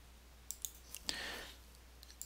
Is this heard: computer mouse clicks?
yes